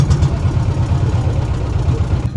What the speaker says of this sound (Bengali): ইঞ্জিনটাও চালু হয়ে গেল এই মাত্রই